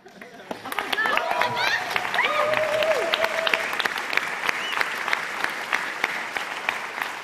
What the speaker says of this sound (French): On ne va pas applaudir tout le monde parce qu'on va dépasser la minute